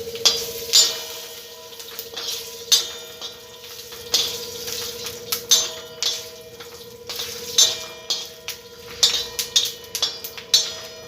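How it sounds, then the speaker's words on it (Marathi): Peanuts roasting in hot oil in a pan over low gas, a quiet steady sizzle broken by repeated light scraping and clinking strokes of a spoon against the pan, close and alone. "शेंगदाणे गरम करून घ्यायचे तेलातून गॅस बारीक केलेला आहे"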